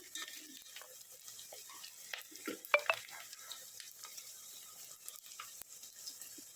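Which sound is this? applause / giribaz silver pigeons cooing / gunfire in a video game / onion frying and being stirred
onion frying and being stirred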